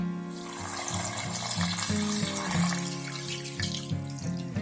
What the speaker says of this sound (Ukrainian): Все заливаємо водичкою.